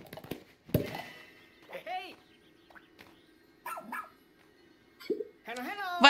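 A rescue dog in the Pikmin 4 video game gives several short, sharp barks and yips in scattered bursts, close and fairly loud, with game sounds in between and a voice speaking at times.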